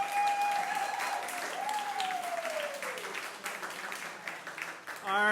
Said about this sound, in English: Round of applause for Bridget Burke.